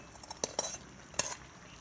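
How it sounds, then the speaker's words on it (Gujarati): A spoon mixes millet flour dough in a pot, giving a few soft scrapes and light metallic clinks at an uneven pace. "પછી બધું ચમચી વડે મિક્સ કરીશું."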